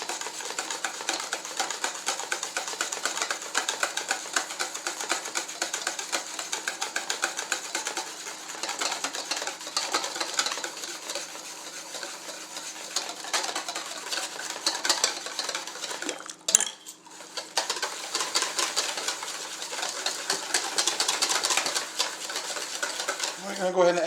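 Eggs whisked steadily in a bowl while hot custard base for French vanilla ice cream is ladled in to temper them, a fast continuous metallic clatter of whisk on bowl with a brief pause partway through.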